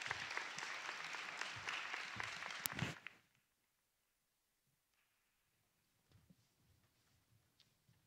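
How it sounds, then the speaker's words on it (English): An audience at a nursing graduation ceremony applauds for about three seconds, dense clapping that stops abruptly, followed by near silence with a few faint scattered claps. "So let's give them all a big round of applause."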